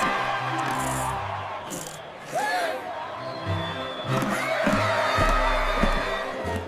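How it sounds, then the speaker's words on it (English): Townsfolk cheering in a cartoon town celebration as cars cross a new rainbow-colored bridge, a continuous crowd roar with shouts, whoops and bright music-like tones throughout. "the first cars cross the rainbow-colored bridge to the sound of cheering citizens and happy barks"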